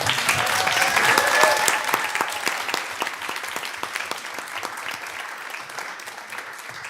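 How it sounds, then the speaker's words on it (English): Audience applause at a university pitch competition final round, steady crowd clapping that is loudest at first and then slowly fades. "give yourself a huge round of applause"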